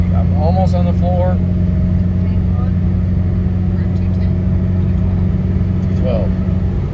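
A heavily loaded truck with a 6.0 Powerstroke diesel engine labors up a hill, a steady low drone heard from inside the cab while people talk over it.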